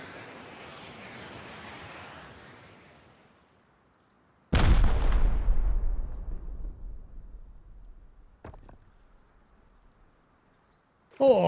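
A rocket fired in the Rust video game: a hissing rush fades out, then a sudden loud blast booms and rolls away in a long, decaying rumble, followed by a sharper crack later.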